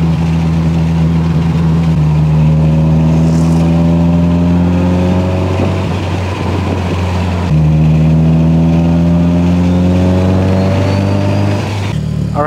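A Mitsubishi Evo 8 engine drones loud and close while driving, rising through the gears in long revving climbs with a gear change midway, alone without talk.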